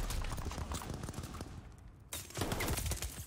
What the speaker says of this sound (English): he wasn't even looking at me when he started shooting